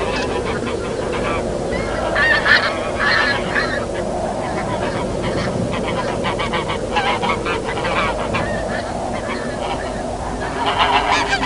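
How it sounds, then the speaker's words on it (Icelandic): Pink-footed geese arriving in spring at the Þjórsárver wetlands, honking continuously as a dense flock, calls overlapping at fairly close range and steady volume throughout. "Í aprílok koma fyrstu heiðagæsirnar meðal annars frá Bretlandseyjum eftir vetursetu sína."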